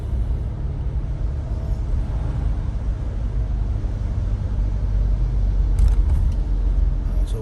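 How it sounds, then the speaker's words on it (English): Cars drive along a rain-wet road at night in Cebu City, a steady low rumble of tyres and engines with a constant hiss of wet pavement, no talking. "we can see we have few cars on the road, and the road's wet"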